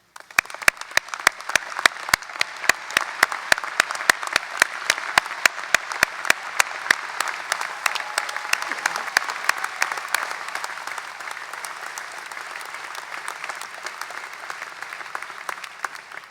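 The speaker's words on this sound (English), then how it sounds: "Please stand so that we can applaud and" A large crowd at an undergraduate commencement ceremony applauds steadily for a long stretch, the clapping dense and sustained before gradually thinning toward the end.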